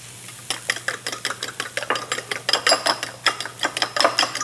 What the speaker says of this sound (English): I'm gonna put some of these onions in here to cook